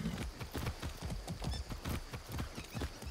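Horse hooves clip-clop in a steady, brisk rhythm in Far Cry 6, with roughly a dozen close, evenly spaced footfalls running alone throughout.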